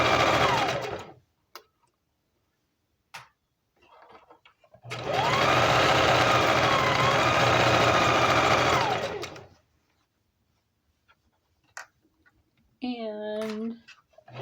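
A sewing machine stitching an Easter apron runs in one steady, loud, close burst of several seconds, preceded and followed by short bits of speech.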